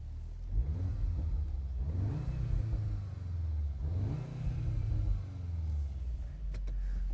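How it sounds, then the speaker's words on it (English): An Audi S3 Sportback engine, heard with the windows open and set to dynamic mode, rumbles at idle and is revved twice. Each rev swells and falls back, close and steady, under a deep low drone with no talk. "Let's start this thing up, shall we? Open the windows, let's hear it rumble a little bit."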